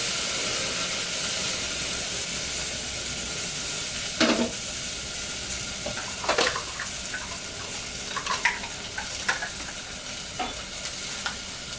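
Coconut milk hits a hot pan while cooking Jamaican jerk chicken wings, sending up a continuous hissing sizzle with scattered scraping knocks of a stirring utensil, close and unaccompanied by talk.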